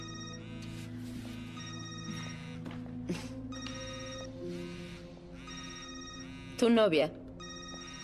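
A telephone rings with a repeated electronic bell pattern in bursts through an indoor scene, heard under a dramatic score, with a voice speaking briefly near the end.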